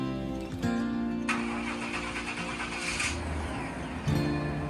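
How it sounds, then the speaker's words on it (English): Chevrolet Suburban engine cranking and firing up after a fuel filter replacement: a brief starter whir, then the engine catches and settles into a steady idle, with a second surge near the end. "The old Suburban fired right up."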